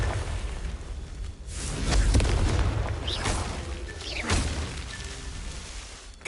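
A Confringo fire spell explodes in Hogwarts Legacy, a heavy boom rolling in around two seconds with whooshing bursts and smaller blasts after it, loud and near.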